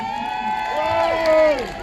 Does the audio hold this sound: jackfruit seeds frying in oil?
no